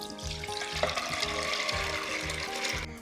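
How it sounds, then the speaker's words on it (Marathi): Soaked chana dal is tipped with its soaking water into a pressure cooker, giving a close, quiet, sloshing pour with a regular pulsing rhythm over a couple of seconds. "कुकरमध्ये ही भिजलेली डाळ घालून घ्यायची. त्यातल्या पाण्यासकटच घालून घ्यायची."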